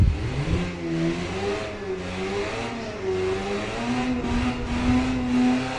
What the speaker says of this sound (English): I can rev the engine myself